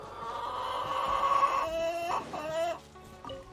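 Chickens cluck and a rooster gives a crowing call, loud and close, with repeated squawking bursts and short pauses between calls, and no speech over them.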